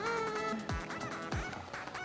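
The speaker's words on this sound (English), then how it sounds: "Oh, that's my alarm." An alarm goes off in a domestic scene, a loud, honking, goose-like electronic tone repeating in a wavering pattern with sweeping low swoops, no talking over it.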